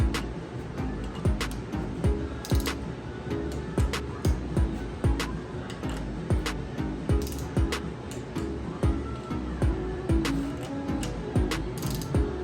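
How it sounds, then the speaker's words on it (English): A torque wrench ratchets close-up while tightening bolts on a Toyota rock crawler engine, giving a steady run of sharp metallic clicks in a fast, even rhythm. "first we torque them down to 5 foot-pounds."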